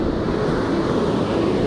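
A broadband rush of choppy ocean surf, as heard from a spot used for surf fishing, runs at a steady level throughout. Wind buffets the microphone, and no voices are present.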